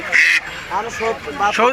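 Geese at a village duck and poultry market in Bangladesh give a few loud, nasal honking quacks in quick succession, close by, mixed with nearby voices.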